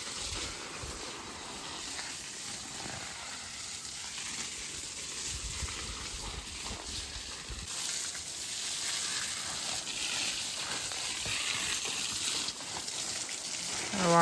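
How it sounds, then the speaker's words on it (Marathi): Water sprayed from a hose onto a home vegetable garden plot on a sunny day, a steady close hiss and gush that runs on throughout, growing slightly louder toward the end, with no talk over it. "काका वाडीला पाणी घालतोय."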